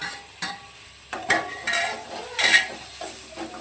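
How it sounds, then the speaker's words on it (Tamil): Tamarind and chillies being sautéed in a pan for a mint and coriander chutney: a soft sizzle under repeated scraping stirs of a utensil against the pan, close and moderately loud, no talking. "நம்ம புளியும் மிளகாவும் போட்டு வணக்கிக்கலாம்"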